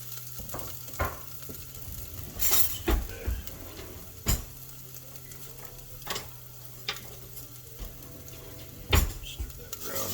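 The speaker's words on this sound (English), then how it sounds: "we got our oil heated up. We're going to put our garlic in there." Garlic and ginger sizzling in hot oil, a low steady fry under repeated scrapes and clinks of a utensil stirring against the pan, close by with no voices.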